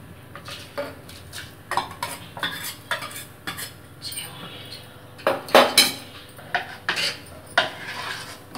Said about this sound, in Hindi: अब हमारा दूध थोड़ा गर्म हो चुका है, अब हम उसमें चावल डाल देंगे।